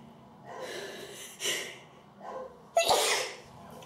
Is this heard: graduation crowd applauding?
no